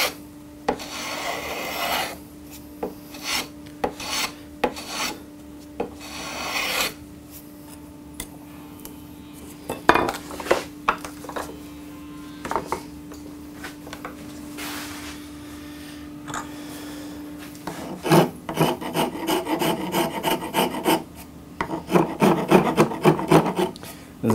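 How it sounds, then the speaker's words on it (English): Blade held at an angle shaving wood while shaping an electric guitar body, a run of quick rasping strokes in bursts, close and fairly loud, with a faster flurry of scraping near the end. "I'm holding the blade at an angle, so I'm cutting on a skew, which I'm slicing rather than cutting"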